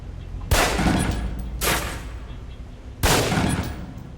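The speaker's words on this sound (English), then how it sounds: "Equip the pistol, then aim down range and take some shots at the target." Three pistol shots crack at a target range in the video game Alpha Protocol, each a loud, close blast with a short decaying tail, the first two about a second apart and the third after a longer pause.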